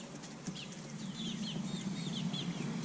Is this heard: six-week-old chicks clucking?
yes